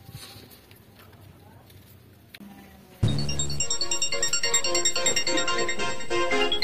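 A loud electronic ringtone melody starts abruptly after a few seconds of quieter background noise, playing a bright repeating tune.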